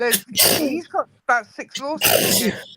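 A single sneeze bursts out in the middle of a live stream conversation, loud and close, with people talking right before and after it.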